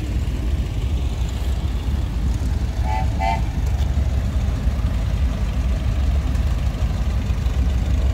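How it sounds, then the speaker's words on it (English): At a steam and gas engine club show in Baraboo, Wisconsin, a vintage tractor engine idles with a constant deep rumble, and a couple of brief tonal chirps sound faintly partway through. "One of my bucket list tractors,"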